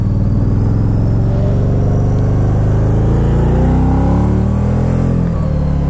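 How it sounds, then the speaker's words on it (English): A 2012 Can-Am Spyder RT-S three-wheeler accelerates hard with its tires spinning: a loud, close engine rumble rises steadily in pitch as it revs, with a continuous gritty roar throughout. "Spin a bunch of tires."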